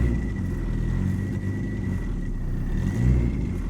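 Nissan 240SX with a KA24DET engine held on the throttle, rumbling steadily close by and swelling in brief revs as it struggles not to stall at idle, with a faint whine running throughout.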